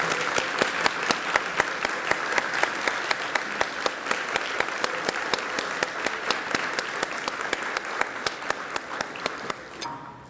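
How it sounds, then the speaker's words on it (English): Sustained applause at a school system employee retirement dinner as retirees receive a standing ovation, steady crowd clapping with a few sharp nearby claps, holding about ten seconds before cutting off. "honor them with a round of applause and a standing ovation, please"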